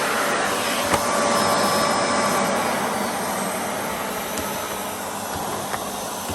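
A Miele vacuum cleaner runs continuously at close range, a loud steady whooshing drone with a faint high whine, no talking.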